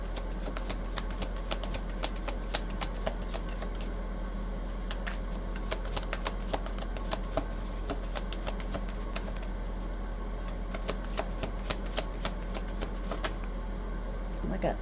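Tarot cards being shuffled by hand, a long run of quick papery riffles and soft slaps close by, steady and repeated, with a person talking intermittently over them.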